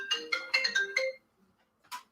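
A phone rings with an incoming call: a short, bright ringtone melody of quick repeated notes that plays for about a second, stops, then begins again. It is fairly quiet and close, with no talking over it.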